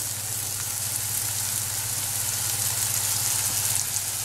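Mangoes with honey gently cooking in a pan over low heat, giving a soft, steady sizzle and bubbling hiss with a faint low hum underneath.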